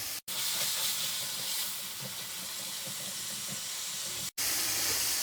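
Finely chopped tomatoes sizzle steadily in a hot pan, a continuous close, loud hiss broken by two brief silent gaps.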